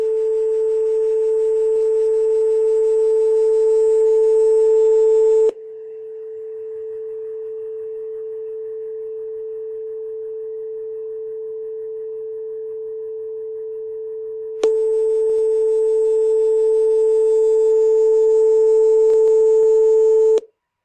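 Two sine tones play in Audacity: one steady tone sounds alone, then both overlap and destructively interfere so the sound thins and drops in level, and finally one tone plays alone again. The tones are loud and clean, with no talk.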